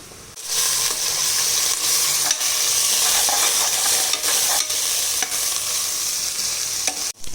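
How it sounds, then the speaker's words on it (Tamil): Ginger garlic paste and garam masala fry in a pan with a steady, close hiss and sizzle, broken by a few soft scrapes of stirring, with no voices. "இஞ்சி பூண்டு விழுது போட்டுக்கலாம் போடுங்கம்மா கூடவே கொஞ்சம் கரம் மசாலா பொடி போட்டுக்கலாம்"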